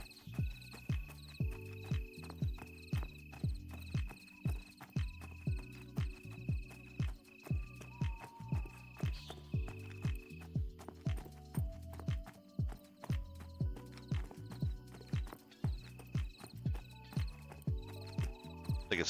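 Horses in the video game Pantheon: Rise of the Fallen clop steadily in a regular, rhythmic hoof pattern, with occasional faint whinnies, moderately quiet and close.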